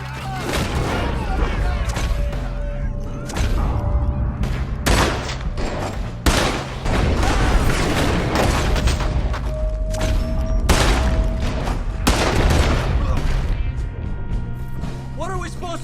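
Heavy gunfire crackles through a riverboat shootout in Red Dead Redemption 2, with dense volleys of shots and booms filling the whole stretch while shouted voices and music play underneath.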